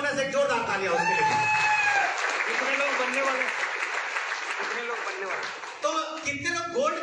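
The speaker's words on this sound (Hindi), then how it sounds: "एक जोरदार तालियां उसके लिए।" A crowd at a sales meeting claps loudly and steadily, with voices calling out over the clapping and a burst of shouting near the end.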